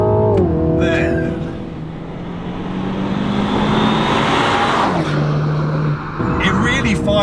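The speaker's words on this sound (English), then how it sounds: "It really fires through the gears." Mini Clubman JCW 2020, a 300 bhp hot estate, accelerates hard in auto mode, its engine note climbing and dropping through gear changes, loud and close inside the cabin with a voice talking over it.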